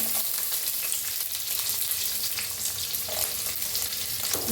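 Garlic, ginger and chopped onion dropped into hot oil in a kadhai, crackling and sizzling steadily up close with a dense hiss and occasional sharper pops, no voices over it.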